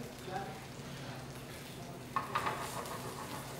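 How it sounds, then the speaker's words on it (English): Shallots sautéing in oil in a pan for sea bass in tomato broth, a faint steady sizzle with a few soft clinks and stirring scrapes near the end. "And we're going to just saute this for a little bit."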